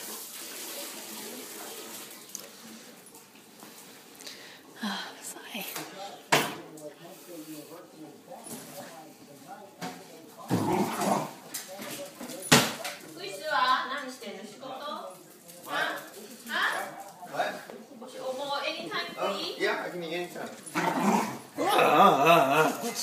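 A corgi puppy whimpers and yips in short bursts, close by, mixed with splashing water and a running tap, while people talk over it.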